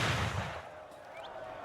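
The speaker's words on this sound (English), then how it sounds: "That was an explosion" An explosion in the video game The Thaumaturge, heard as the fading tail of a deep, rumbling blast that decays quickly into a quiet hiss.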